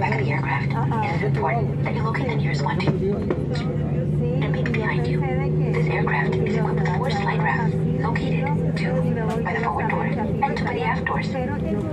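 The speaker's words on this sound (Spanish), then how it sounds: "Finalmente encendiendo motores." Jet airliner engines spool up during pushback, a steady droning hum with rising tones inside the cabin, mixed with clinking of dishes and cutlery and ongoing talk over the top.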